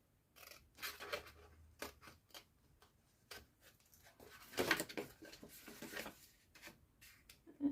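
Paper being cut with scissors while making a Stampin' Up! gift pouch, heard as a run of short, crisp snips at an uneven pace, close by and fairly quiet, with no voices.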